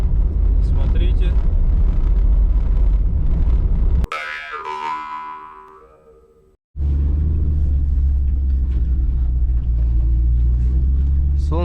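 A UAZ Patriot rolls through forest tundra with a deep, steady cabin rumble, broken midway by a few seconds of a different, fading sound before the loud drive noise resumes.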